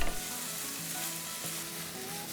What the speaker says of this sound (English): Now fry the onions for a few minutes until they're nice and soft.